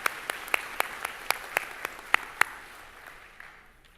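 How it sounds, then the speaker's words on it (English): Scattered applause rings out at a school convocation, starting with a series of sharp, distinct claps from a modest audience, then thinning and fading to quiet by the end. "If we could give them a round of applause."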